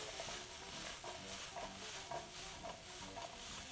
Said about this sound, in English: And you can add your tofu at this stage.